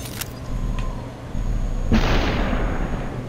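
Gunfire in the video game Superhot hits a wall as a sharp burst followed by a rushing, crumbling noise, with a few earlier clicks and thuds, loud and near and without talking.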